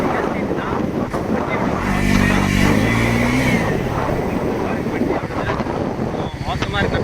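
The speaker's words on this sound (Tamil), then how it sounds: "ஆனால் வண்டியோட சவுண்ட் பார்த்தீங்கன்னா சும்மா ஆசமாக இருக்குது" A TVS NS400 motorcycle engine running in sports riding mode, a loud continuous roar with heavy wind buffeting on the microphone, a rising harmonic whine in the middle as revs climb, and someone talking over it.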